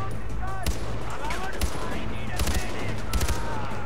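Gunfire in the video game Far Cry 4: rapid bursts of automatic shots crackle over a busy background of game effects, with a few louder single reports spaced through the clip.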